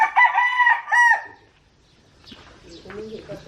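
A voice imitates a rooster's crow, loud and close, followed by quieter chatter.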